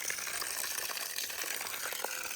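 Muddy, silt-laden water gushes steadily from a pump outlet, a continuous broadband splashing rush that stays close and even throughout with no talk over it.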